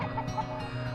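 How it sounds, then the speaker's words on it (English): Free-range chickens cluck together on a grassy farmstead pasture in the mountains, a steady close chorus of soft, overlapping clucks with no talk. "I have never seen so many happy chickens in my life."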